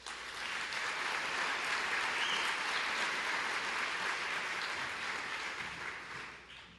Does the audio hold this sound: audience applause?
yes